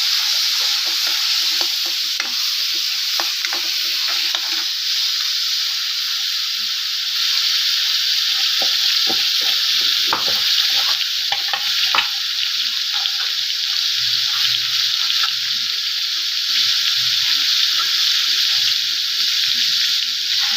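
Green peas and potatoes stirred while frying in a pan, a constant loud sizzle with occasional scraping knocks of the spoon against the pan.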